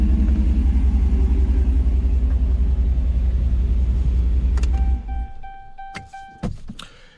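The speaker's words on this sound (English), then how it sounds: "Go ahead and shut the truck down." A 2009 Hemi Ram 1500 pickup engine idles with a heavy rumble, then shuts off abruptly after about five seconds, followed by quiet electronic chimes and a few thunks from the cab.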